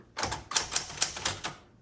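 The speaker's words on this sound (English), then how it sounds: "let's say I'm in the middle of a long word and I'm gonna keep typing" Keys strike on a 1973 Smith-Corona Galaxie Twelve typewriter, about seven crisp, sharp clacks in a quick, slightly uneven rhythm, close and clear with no talking.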